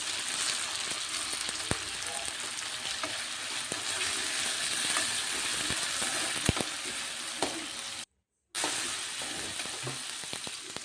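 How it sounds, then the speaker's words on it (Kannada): Tomatoes frying in a pan for a village-style sambar gravy give a steady, close, broadband sizzle with scattered crackles and stirring clicks. The sound cuts out briefly for a moment near the end, with no talk. "ಅದನ್ನು ಕೂಡ ಚೆನ್ನಾಗಿ ಫ್ರೈ ಮಾಡ್ಕೊಳ್ಳಿ."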